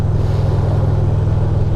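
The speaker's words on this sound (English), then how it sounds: "It runs strong. Hopefully the bass, I'm getting a lot of bass coming back from that exhaust" Can-Am Spyder three-wheel motorcycle engine idling through its exhaust, a loud, steady, bass-heavy rumble close by with no talking.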